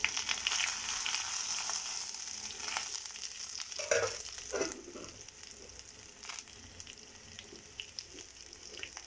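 Green chillies, tomato and coriander seeds fry in a pan of oil for a ridge gourd chutney, giving a soft, steady sizzle with occasional spatters and stirring clatter, fairly quiet and without speech.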